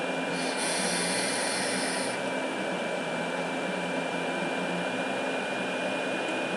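A Limitless XL vape tank fires at 150 watts with an 80-20 blend liquid, giving a soft, continuous airy hiss and faint crackle that lasts several seconds, quiet and with no talking.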